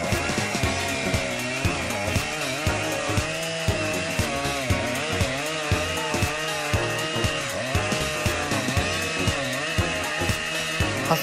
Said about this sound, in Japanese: 大型チェーンソーですが簡単に始動し作業もこなせるチェーンソーです。